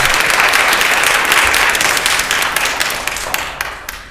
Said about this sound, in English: So the clapping I would ask that you refrain from.